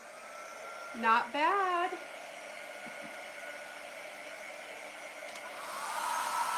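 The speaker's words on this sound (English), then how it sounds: "that was my husband turning on the blow dryer so we can compare" A blow dryer running steadily as a continuous airy hum throughout, fairly quiet, while someone speaks briefly over it near the start.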